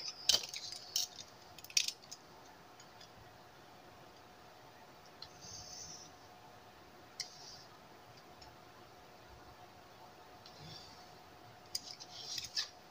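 Scissors cutting paper for a scrapbooking-style treat box, a few crisp snips near the start and scattered faint clicks afterward in a quiet room.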